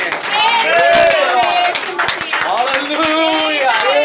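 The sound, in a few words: church congregation clapping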